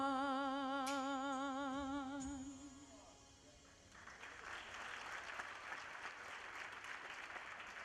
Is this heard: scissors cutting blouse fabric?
no